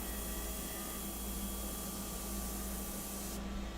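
A steady hiss of an airbrush spraying India ink runs continuously at a constant level, then the upper hiss cuts off abruptly near the end.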